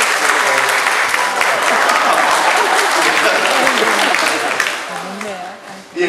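A church congregation at a drama-team performance applauds loudly and continuously, with voices and cheers mixed in, before the clapping thins out near the end.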